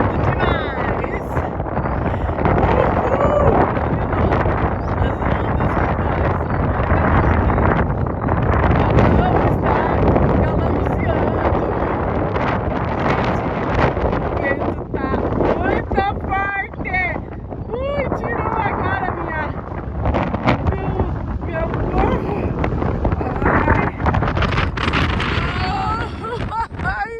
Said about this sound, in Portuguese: o vento está ventando demais